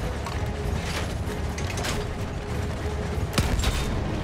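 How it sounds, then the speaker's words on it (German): Weapon reload in the Battlefield 1 video game: steady mechanical clicks and ratcheting, with a sharper metallic snap near the end, all over continuous background game noise. "Lade nach."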